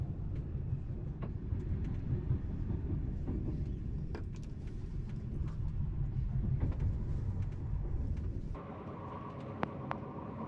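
A TER regional train running on rails, heard from inside the carriage: a steady, loud low rumble with scattered clicks and knocks that settles to a quieter hum near the end.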